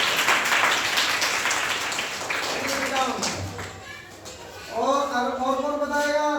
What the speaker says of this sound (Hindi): चलिए जोरदार ताली।